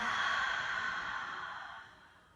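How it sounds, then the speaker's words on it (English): A slow breath during a yoga strength flow, drawn in through the nose and released through the mouth as one long soft airy exhale that fades out over a couple of seconds, close and alone. "One more time, in through the nose and exhale out through the mouth."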